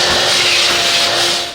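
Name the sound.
vacuum cleaner cleaning car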